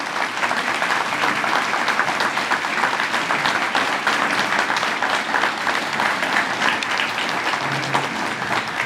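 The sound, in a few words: applause for Hall of Fame committee members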